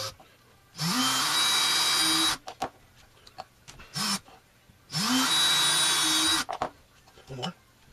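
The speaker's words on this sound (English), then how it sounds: "So let's get all of them. This side. So drill these out." A power drill whirs in two bursts of a couple of seconds each, drilling holes in a DIY FPV drone frame, close by, with brief clicks and short pauses between.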